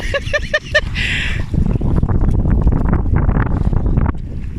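Strong wind and big sea waves roar steadily around a small fishing boat out on rough water, a dense, close rumble that stays loud throughout, with a brief voice near the start.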